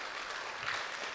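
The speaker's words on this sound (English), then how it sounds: "we give a round clap for Dr. Mzime" An audience at a university conference in Mombasa claps in steady, continuous applause for a departing speaker, brief and moderately loud.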